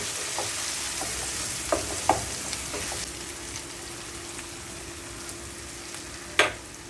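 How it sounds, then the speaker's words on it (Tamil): Tomato and onion masala with chili powder fries and sizzles in a pan for crab masala, a steady close hiss broken by a few sharp spoon-and-pan stirring clacks, no voices. "மிளகாத்தூள் போட்டுட்டு அதையும் நல்லா வதக்கி விட்டுடுறேன்"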